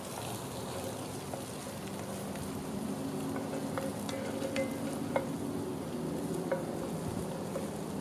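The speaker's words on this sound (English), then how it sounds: "that's our sprouts. Give those guys a stir" Brussels sprouts sizzle softly and steadily in a hot pan, with faint scraping clicks as they are stirred; no talking.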